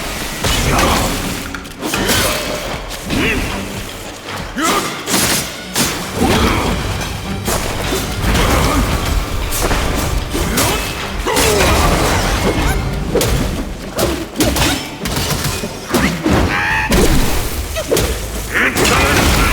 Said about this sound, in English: can you withstand my spike-shot fireball?